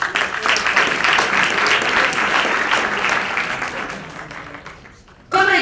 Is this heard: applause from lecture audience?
yes